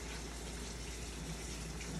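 Rice noodles are rinsed under running tap water, giving a steady, faint, even rush of flowing water with no pauses.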